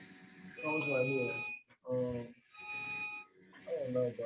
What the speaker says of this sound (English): alarms going off, but it's the first day in that facility